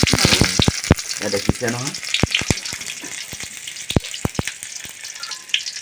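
Vegetables sizzle steadily in hot mustard oil in a small home kitchen, a close, continuous frying crackle with a few sharp clatters of utensils, while someone speaks briefly over it.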